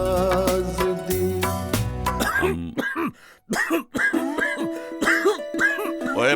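A man in a cough syrup advert clears his throat and coughs in several harsh, close bursts over a short musical jingle, with a voice speaking briefly between them.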